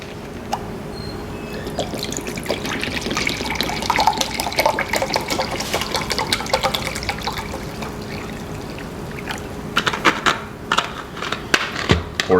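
Water and white vinegar are poured into a container for pickled onions, a steady trickle with scattered drips and splashes nearby, growing busier toward the end.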